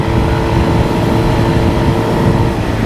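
A Suzuki GSX-R 1000 sport motorcycle out on a short test loop, giving a loud, steady engine roar close to the microphone with no talking.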